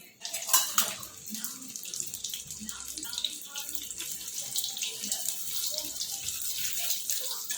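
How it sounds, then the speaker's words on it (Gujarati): Paneer cheese balls deep-fry in hot oil over a low flame, giving a steady, bright sizzling hiss throughout with a few faint clinks. "લો ફ્લેમમાં એને તળવા દઈશું આપણે।"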